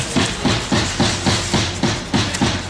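Loud, steady back-and-forth sanding strokes on a wooden frame, close up, repeating in a quick even rhythm about three times a second.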